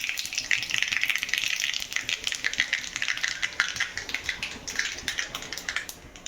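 Potatoes being tempered in hot oil in a home kitchen pan give off a steady, close crackling sizzle that runs the whole time with busy spitting bursts, and there is no talk over it.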